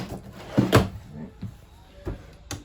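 Kitchen drawers in a 2022 Pioneer BH270 RV being opened and shut, giving a few quick hollow knocks and slides close by, with a louder thump near the start and softer clunks after.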